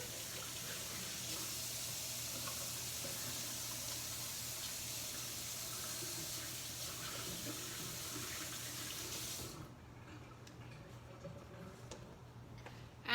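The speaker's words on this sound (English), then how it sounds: "So I'm gonna wash my hands for my 20 seconds." Running tap water with hands being washed under it at a kitchen sink, a steady close rushing hiss for about ten seconds that stops abruptly, leaving faint room noise.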